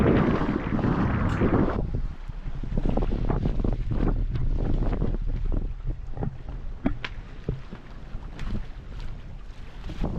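Steady light wind rushes and buffets across the open sea off French Guiana, with water swishing against a sailboat's hull and faint creaks of the rigging.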